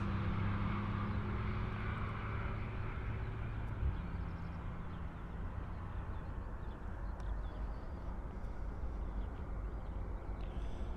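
Steady, continuous aircraft engine rumble from airport traffic at Munich Airport during a Tuesday evening, a broad droning roar holding at an even level throughout with no talk over it.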